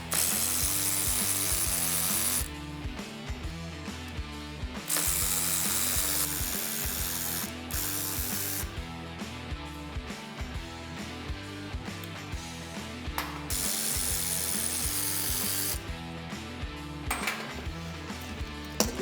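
A ratchet loosens the intake manifold bolts on an old engine being disassembled, with long runs of steady, close, loud clicking broken by brief pauses and no voices.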